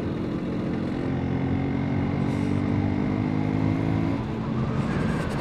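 A 50cc moped rides along an empty road at about 30 with a loose throttle grip, its small engine buzzing steadily and close for about four seconds before the note drops away.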